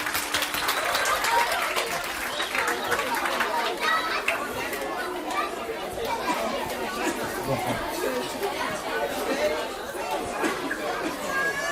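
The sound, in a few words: audience applause in church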